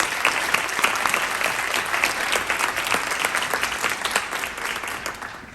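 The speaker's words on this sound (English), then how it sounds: "hopefully we can have a round of applause for our panelists." An audience gives a full, dense round of applause for the panelists at an education policy roundtable, a steady wash of many hands clapping with no talk on top.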